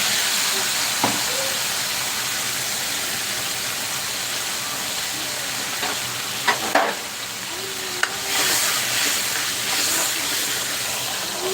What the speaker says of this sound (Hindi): अभी हमें ऐड कर देंगे ये टमाटर, हरी मिर्च और अदरक वाला पेस्ट जो हमने अभी ग्राइंड किया है